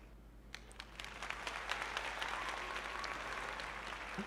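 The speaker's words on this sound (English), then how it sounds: "Oh yeah, there's some applause." Faint applause builds after a moment of quiet during a live trivia show, a distant patter of clapping hands that swells and holds steady.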